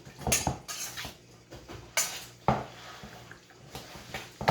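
Raw meat being mixed with eggs in a bowl, with several wet slaps and a few utensil clinks against the dish at close range, some louder strokes standing out among softer squelching.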